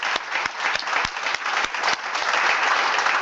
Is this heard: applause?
yes